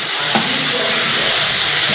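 Whole spices sizzle in hot oil: bay leaf, dried chili, cardamom, clove and cinnamon, fried for a roadside dhaba chicken. The hiss is loud, close and steady, with no voices over it.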